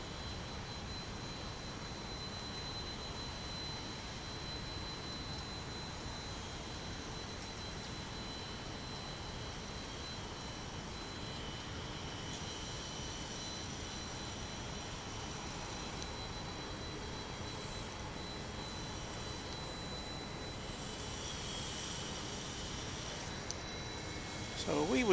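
A Frontier Airlines jet departing at DFW airport, a steady distant broadband engine roar with a faint high whine, moderately quiet and continuous, a voice talking over it.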